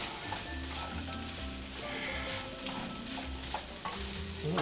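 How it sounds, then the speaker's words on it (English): Fried rice stir-fried in a little oil, a steady close sizzle with scraping and stirring strokes running throughout, loud and continuous with no talk. "The key to stir-fried rice, of course, is stirring. Well, and frying."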